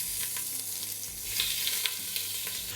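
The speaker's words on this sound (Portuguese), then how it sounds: "Agora então eu vou despejar o nosso azeite. Vou diminuir um pouco a temperatura da panela, eu diminuí um só, e vou despejar a nossa carne." Meat sizzles and fries in hot olive oil in a cooking pot over lowered heat, giving a dense, steady crackling hiss with scattered pops, close and loud with no voices.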